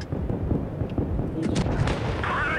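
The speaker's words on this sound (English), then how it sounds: "he bounced off me with his autocannon" Autocannon shells firing and bouncing off a tank in World of Tanks Blitz, a rapid series of muffled booms and pops over low rumbling game ambience, with a faint ricochet ping near the end.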